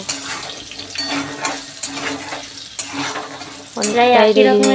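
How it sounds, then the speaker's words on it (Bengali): Potatoes frying in a pan, a close, loud, crackling sizzle with rhythmic stirring scrapes, then a voice begins speaking over it near the end. "বন্ধুরা দেখো আমার আলু ভাজাটা প্রায় হয়ে গেল"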